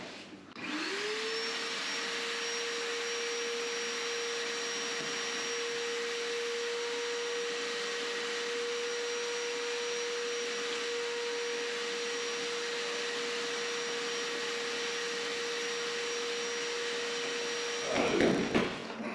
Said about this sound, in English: going to be noise because vacuum